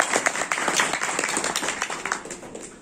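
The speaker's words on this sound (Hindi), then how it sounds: "तालियां बजाओ।" A spiritual gathering's audience claps together, a dense run of hand claps at a steady quick pace, fairly close and moderately loud, tapering slightly toward the end.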